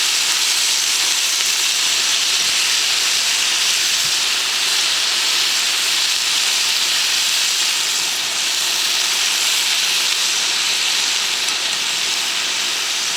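Vegetables sizzle in a hot pan beside a steak dinner for one, giving a loud, continuous broadband hiss that stays steady and close throughout, with no talk.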